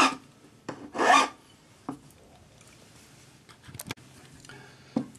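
A metal pendant bail is filed into shape with a few separate rasping strokes, close and distinct, with quiet pauses between them.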